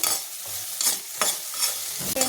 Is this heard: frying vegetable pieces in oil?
yes